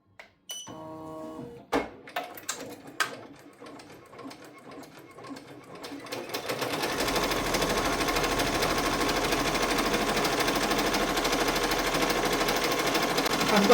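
Computerized embroidery machine stitching out a design in fast mode, a steady dense mechanical whir and rapid needle clatter that builds after a few initial clicks and then runs continuously and loudly.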